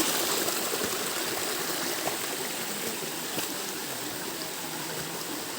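A small waterfall pours in a steady, dense rush that stays close and even throughout, with no voices over it.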